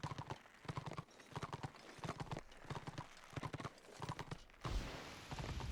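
Horse hooves clip-clop steadily in Warhammer Online, a regular rhythmic trot of close, crisp hoofbeats that stops abruptly near the end, followed by a burst of louder ambient game noise.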